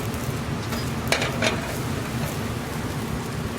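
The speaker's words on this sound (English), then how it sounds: "Let that cook in the sauce for a few minutes so the sauce goes into the pasta and flavors it." Homemade cavatelli pasta simmers in a braised chicken sauce, giving a steady, even bubbling sizzle with a couple of faint clinks partway through.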